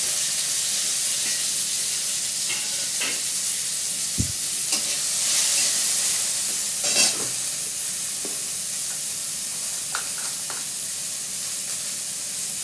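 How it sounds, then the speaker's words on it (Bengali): Chunks of mango and tomato fry in a pan for a sour puti fish dish, giving a steady, close, hissing sizzle that runs throughout, broken by a few soft stirring knocks. "আম টমেটোটা আমার ভালো করে ভেজে নেওয়া হয়ে গেছে"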